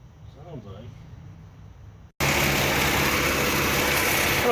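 A rebuilt 289 Ford Mustang V8 runs outside during break-in, cutting in suddenly as a loud, steady, broadband engine roar after a quieter stretch of background with a voice.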